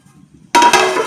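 A lid goes onto a cooking pot of pork and koorka: a sudden metallic clatter after a quiet moment, followed by a brief ringing rattle up close.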